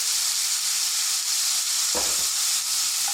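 Saffron perch fillets frying in a pan on raised heat, a dense continuous sizzle with a brief soft scrape or stir partway through, close and steady with no voices.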